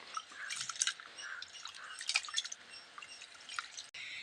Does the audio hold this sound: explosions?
no